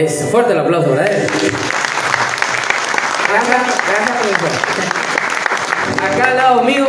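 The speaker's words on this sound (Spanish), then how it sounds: "Es fuerte el aplauso para él." Loud, sustained applause fills a live chamamé recital in Eldorado, Misiones, greeting a 13-year-old accordionist, with an announcer's voice carrying over the clapping throughout.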